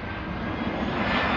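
An airplane passes overhead with a steady, broad roaring drone that holds at a moderate, even loudness for the whole short stretch.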